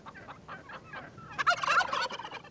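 Wild turkey gobbling, a rapid rattling burst that swells loud after a few fainter, scattered calls.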